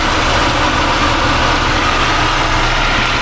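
A Quad 4 engine in a Chevrolet Beretta Z26 idles while warming up, a loud, steady, close-up rumble with an even, unbroken hum.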